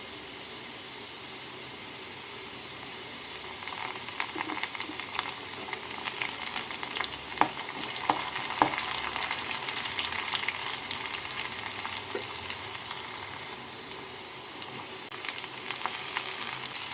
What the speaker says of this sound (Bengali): রসুন কুচি আর পেঁয়াজ কুচিটাকে আলুর সাথে ভেজে নিচ্ছি